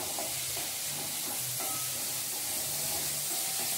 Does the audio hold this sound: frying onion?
yes